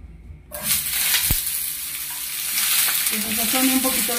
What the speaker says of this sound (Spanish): Yo ya tengo mi sartén caliente. Ahora le ponemos la cebolla.